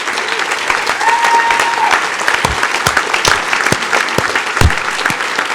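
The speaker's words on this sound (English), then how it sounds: "Applaud yourselves." Audience applause at the closing ceremonies of the HOPE XI hacker conference, loud sustained clapping from a large crowd with scattered sharp claps and a whistle tone near the start.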